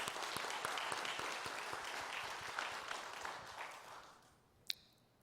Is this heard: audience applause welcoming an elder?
yes